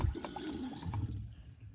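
Water releasing and draining out of a garden pump being winterized, a steady rushing, gurgling flow with low rumble that continues throughout, close by.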